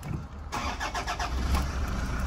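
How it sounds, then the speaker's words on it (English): A 2014 Toyota Hilux diesel pickup engine cranks with a quick series of chugging pulses, then catches and settles into a steady, close idle. "I'll start the car up."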